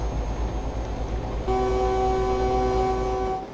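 A loud, sustained truck horn blast in Euro Truck Simulator 2 sounds over a low engine rumble and holds steady for about two seconds.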